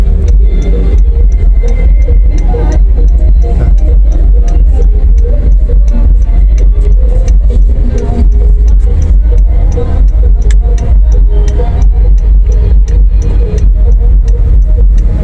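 A large car creeps round and round in low gear, hunting for a free parking space in a crowded lot; steady close engine rumble with faint background chatter throughout.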